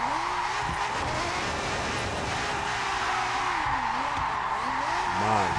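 Video-game Lamborghini Murciélago drifting, its engine droning steadily while tires squeal and slide in wavering pitches throughout, loud and continuous with no speech.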